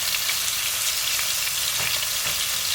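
Steak pieces for pepper steak searing in a hot pan, a loud, dense, continuous sizzle and crackle heard close up with no talking.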